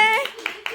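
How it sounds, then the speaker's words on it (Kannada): A voice speaks briefly, then a few separate hand claps follow in an uneven rhythm of about three quick bursts. "ಹೊಡೀರಿ ಚಪ್ಪಾಳೆ."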